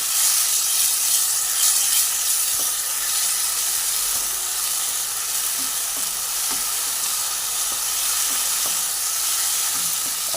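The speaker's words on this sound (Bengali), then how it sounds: "এবার আমি আদা রসুনের পেস্টটা আমি দিয়ে দিলাম এর মধ্যে দিয়ে একটু নাড়িয়ে চাড়িয়ে নেবো" Steady, loud sizzling of ginger-garlic paste frying in hot oil, with occasional scraping and clinks of a spoon stirring the pan.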